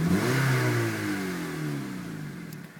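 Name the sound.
2006 Honda Civic engine revving with Si axle-back exhaust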